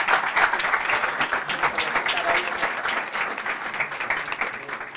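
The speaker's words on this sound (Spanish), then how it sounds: "pido un aplauso para la madre" Warm applause from a conference audience rises and holds at moderate volume, with dense clapping that stays even over a few seconds.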